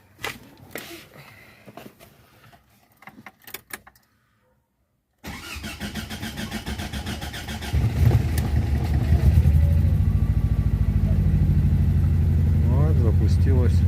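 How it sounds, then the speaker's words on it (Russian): A Mazda 626 2.0 engine cranks and fires up for the first time after cylinder head repair and fuel pump replacement, catching after a brief silence and settling into a loud, steady idle, with someone talking faintly before the start. "Первый запуск."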